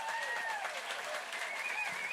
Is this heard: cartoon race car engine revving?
no